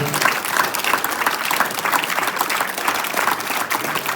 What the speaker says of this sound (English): the rest of us are going to give you a big round of applause